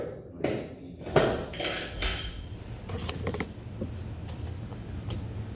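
A welded drive shaft intermediate tool for a Volvo Penta SX lower unit being set into a bench vise, with metallic clanks, pings and scraping clunks, strongest near the start, then lighter rattles.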